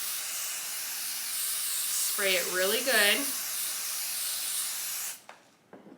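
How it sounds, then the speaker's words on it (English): Aerosol spray hissing steadily onto embroidery work on a basket, a continuous close hiss lasting about five seconds before cutting off, with a voice speaking briefly partway through. "and I'm going to spray"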